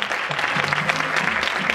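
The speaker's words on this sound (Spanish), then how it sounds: "Un aplauso." Audience applause at a women's council inter-association event, a steady dense clapping wash from a crowd, even and moderately loud throughout.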